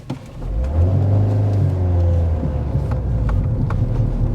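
A car engine pulling away in first gear, revving steadily with a rising mid-pitched drone and deep rumble that stays loud and close for several seconds, with no talking.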